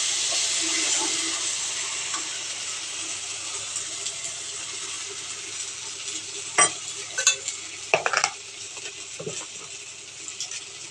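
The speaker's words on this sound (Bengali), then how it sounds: "দুটো শুকনো লঙ্কা দিলাম ফোটন দিতে নেড়ে চেড়ে" Two dried red chillies sizzling in hot oil for a Bengali potol posto, a steady close hiss with a few scraping stirs of a spoon near the end.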